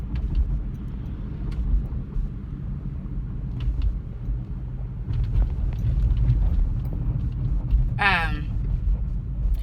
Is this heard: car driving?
yes